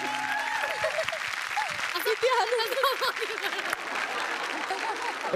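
Applause breaks out on the set of a Marathi TV dance show, a steady wash of clapping that runs throughout and stays mixed with voices and other noise.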